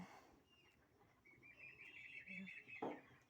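Faint high chirps and peeping calls of chicks on a farm at dusk rise over a quiet, murky background, with a brief lower voice-like sound partway through.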